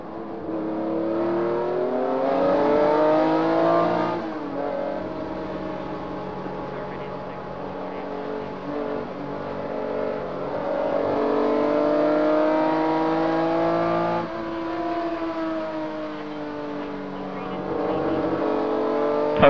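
Porsche race cars, including a 1968 Porsche, roar around the track at the 2015 Rennsport Reunion, engines rising and falling in repeated passing surges under a commentator's continuous voice.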